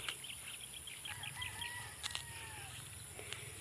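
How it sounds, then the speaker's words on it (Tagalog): Chickens cluck and call in the distance, with a rooster's drawn-out crow and a brief flutter of wings over a faint outdoor hum. "grabe daghanag manok diri"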